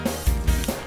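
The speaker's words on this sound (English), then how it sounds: "There's dogs going nuts" Several dogs guarding a house bark in short bursts nearby, low thumping woofs recurring through the moment with a few higher yips.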